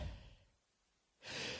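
A comedian imitates breathing into a microphone: a heavy breathy exhale fading out, a brief pause, then a loud, harsh rush of breath that fills the mic, close and alone.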